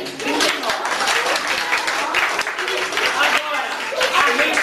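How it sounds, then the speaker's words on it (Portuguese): Fourth-grade class at a municipal school applauding a classmate, sustained crowded clapping from many children, with voices talking over it. "Palmas para ele."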